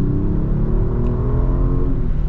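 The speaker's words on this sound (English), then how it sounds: "We'll get into the other lane so we can get an acceleration." Genesis G90 3.3T twin-turbo V6 with an 8-speed automatic accelerating hard, heard from inside the car as a steady, loud rising engine drone with no talking.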